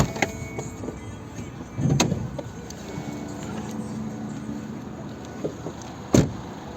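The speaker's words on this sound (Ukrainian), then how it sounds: "Йдемо подивимось, як працює двигун." A 2010 Opel Zafira with a 1.8 MPI petrol engine runs at a steady idle, with a couple of sharp clunks from the body standing out over the hum.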